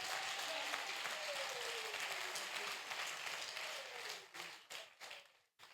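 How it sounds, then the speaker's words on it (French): A church congregation applauds in a sustained wash of clapping that thins and breaks up toward the end, with faint voices mixed in. "Acclame Jésus, acclame Jésus"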